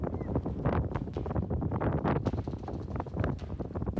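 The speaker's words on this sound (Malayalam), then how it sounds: "നമ്മൾ പറന്നു പോകുന്ന രീതിയിലുള്ള കാറ്റാണ് കേട്ടോ." Strong cold wind buffets the microphone on Chembra Peak in Wayanad, a constant gusty roar with irregular bursts and no voices.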